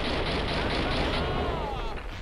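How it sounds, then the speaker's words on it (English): Explosions in the Max Payne 2 video game, a rumbling, sustained burst of blasts and gunfire-like crackle that fills the whole moment at moderate level. "If any of those explosions hit anybody."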